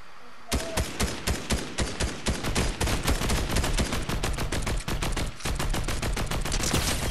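Rapid automatic gunfire in the Fortnite video game, a dense string of sharp shots in quick succession that starts abruptly and runs loud and close throughout, with no talk over it.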